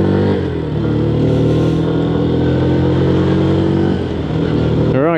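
A Lexmoto ZSB motorcycle hums steadily on a test ride, its engine note droning loud and close with slight shifts in pitch, and wind noise running underneath.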